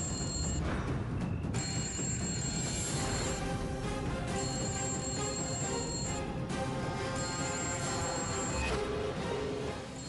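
A mobile phone rings repeatedly in a TV serial scene, its bright electronic tone sounding in bursts with short gaps over a loud, busy background throughout.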